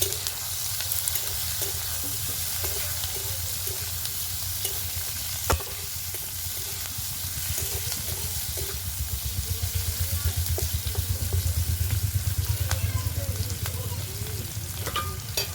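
Tomato pieces sizzling and frying in a pan with dried shrimp, a steady close crackle with occasional stirring scrapes throughout, no talking.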